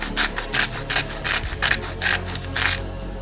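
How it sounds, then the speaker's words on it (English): A hand grinder cracks salt and pepper over three eggs and fresh cream, giving a run of about ten close, gritty rasping bursts in a steady rhythm, with no voices. "for 3 eggs you want to add 4 grinds of salt and 10 grinds of pepper"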